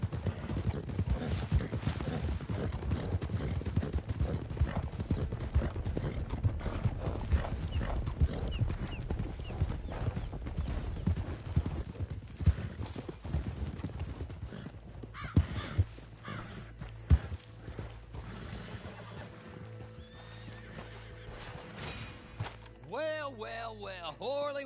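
Horse hooves clip-clop in Red Dead Redemption online multiplayer, a fast, close and steady gallop for about fifteen seconds, then slowing and fading into quieter game sounds with some tonal calls.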